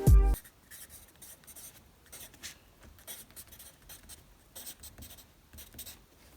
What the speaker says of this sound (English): all I have to do is write it down